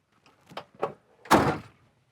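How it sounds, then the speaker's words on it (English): A 1966 Ford Mustang Coupe door swings shut with a single loud, solid thunk, preceded by two softer clicks and rattles of the latch and handle, with no talking. "Door shut's good"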